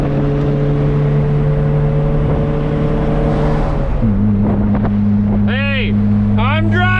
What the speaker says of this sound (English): That's definitely rod knock.